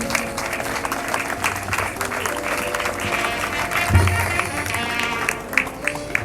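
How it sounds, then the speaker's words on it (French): An audience applauding at a funeral ceremony, a sustained scattered clapping from a gathered crowd, with a voice speaking over it. "Acclamons pour l'encourager, s'il vous plaît."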